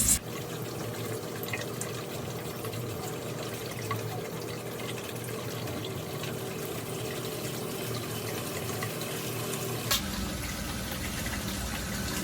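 Tap water runs steadily over a pressure cooker full of cow foot soup to cool it down, a constant, even splashing wash that shifts in tone partway through as the flow changes.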